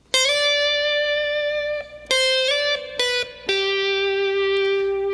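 A slow guitar lick with a few plucked notes that glide between pitches, each ringing out clearly on its own with no talking.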